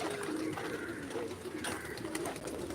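Pigeons with two small chicks coo softly, a few low murmured calls set against a busy, noisy background.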